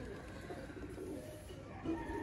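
Sialkoti pigeons cooing softly among a pair of breeder birds, a low murmuring coo under faint background noise, with the calls blending into a continuous hum rather than distinct spaced phrases.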